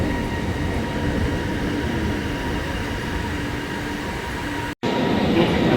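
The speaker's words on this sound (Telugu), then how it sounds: "ట్రైన్ వస్తుంది." A metro train pulls into a Kuala Lumpur railway station with a loud continuous rumble and rolling drone, holding steady close by with faint squealing overtones and a brief dropout near the end.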